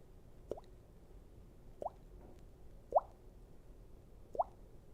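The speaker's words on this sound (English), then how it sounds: "It's a slow drip." A slow drip from a faucet left running on a freezing night, four soft isolated plops spaced about a second apart, quiet and close.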